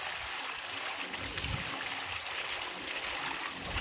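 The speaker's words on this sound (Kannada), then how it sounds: "60 ಅಡಿಗೆ ಎಷ್ಟು ನೀರು ಬರ್ತದೆ ನೋಡಿ." Water gushes steadily from a borewell pump drawing from 60 feet down, a continuous rushing, splashing flow at close range that stays even and strong from start to finish, with no voices over it.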